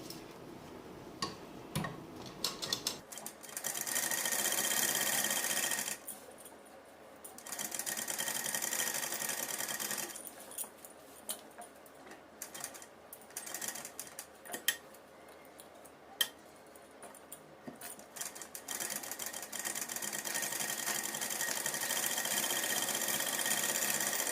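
A sewing machine stitches a lining onto a suit neckline in several bursts of rapid mechanical whirring, separated by pauses filled with soft ticking and handling of fabric.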